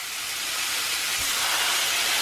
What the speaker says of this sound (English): we know it's sizzling hot